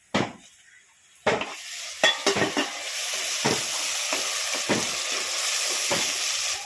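Thinly sliced tomato pieces tossed onto browned onions in a pan for a village-style fish curry, a few sharp utensil clinks and scrapes, then a steady loud sizzle with periodic stirring strokes, no voices.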